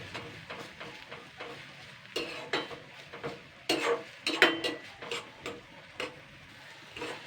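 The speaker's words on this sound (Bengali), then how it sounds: "দুই তিন মিনিট একটুখানি হালকা করে ভেজে নিতে হবে যাতে শাকের গন্ধ কাঁচা গন্ধটা যেন চলে যায়" Jute leaves fry lightly in a pan with soaked chana dal, a soft steady sizzle broken by repeated clicks and scrapes of a utensil stirring against the pan, close and moderately quiet, with no talking.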